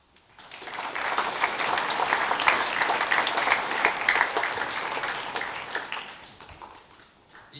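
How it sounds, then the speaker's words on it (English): A school assembly audience at Central Southern College gives a loud, sustained round of applause, rising quickly, holding steady for several seconds of dense clapping, then tapering off. "Can we please give a huge thank you and a round of applause to Mrs. Valentine, who organised everything"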